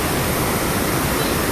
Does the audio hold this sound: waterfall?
yes